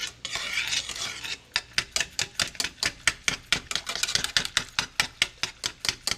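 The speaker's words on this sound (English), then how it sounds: "So what you would like to do is whisk them, because whisking them separates the grains and keep you from having lumps." A whisk beats washed grits in a pot: a brief swirling rasp, then a fast, even run of sharp metallic strikes against the pot, close and fairly loud.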